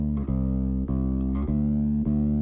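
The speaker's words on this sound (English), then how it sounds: "if I kind of exaggerate that frequency on this bass here, sounds something like this." A bass guitar boosted heavily around its low-mid range plays a few sustained notes, each sharply plucked and ringing thick and boomy, loud and alone.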